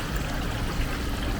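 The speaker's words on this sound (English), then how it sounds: "like beautiful little waterfall" A small garden waterfall at a motel near Mt Hotham, a steady close rush of flowing, splashing water with no pauses.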